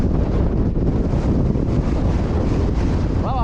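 Strong wind gusts blasting steadily across the Ben Lomond plateau in Tasmania, a loud, constant roar buffeting the microphone throughout with no letup.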